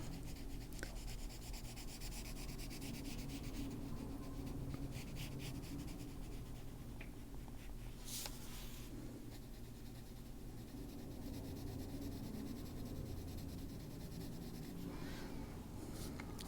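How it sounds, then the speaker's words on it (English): The side of a pencil is dragged across paper to shade in a drawing, giving a faint, steady scratchy rubbing that runs on with small bursts of stroking, quiet and close, with no talking. "just run the side of the pencil up to give it some darkness"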